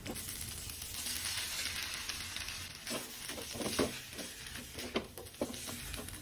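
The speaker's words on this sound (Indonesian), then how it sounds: "masukkan tongkol yang udah disuir-suir dan tumis kurang lebih 10 menitan" Shredded pre-cooked tuna being stir-fried with dried-down spice paste in a pan, a steady close sizzle broken by irregular scraping stirs and taps of the spatula, with no talking.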